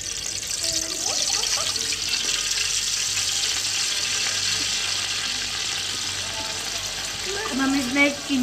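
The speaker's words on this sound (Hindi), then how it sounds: "अब हम इसमें पानी डालेंगे।" Water poured into hot ghee in a cooking pan sets off a steady, loud sizzle and hiss that runs throughout, with a few faint squeaky tones near the end.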